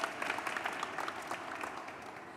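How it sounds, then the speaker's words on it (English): Audience applause at a South Asian Heritage Month celebration, a steady patter of many hands clapping at moderate volume, fading slightly toward the end. "Let's give them a round of applause."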